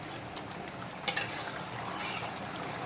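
Ridge gourd and potato curry stirred in a pan, a soft bubbling sizzle with a few sharper scraping knocks of the spoon partway through, close, without talk.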